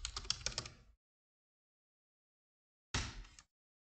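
Computer keyboard keys clatter in a quick burst of typing a terminal command, then a pause before a final brief flurry of keystrokes, close-up and clear in an otherwise silent room.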